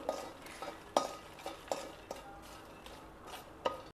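Freshly popped butter popcorn is scooped and stirred into a large bowl, giving a steady rustle broken by a handful of sharper scrapes and clinks, close and moderately quiet, with no talking.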